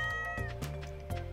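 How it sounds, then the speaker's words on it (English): A cat named Mika meows in the video game Stardew Valley, giving a few short, fairly quiet meows in quick succession with no one talking over them. "There's Mika. Hey, little kitty."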